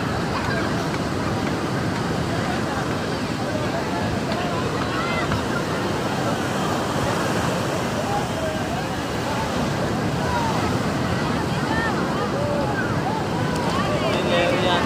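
Steady wash of surf rolling onto Puri Sea Beach in Odisha, constant and close, with wind noise over the microphone and no clear breaks between waves.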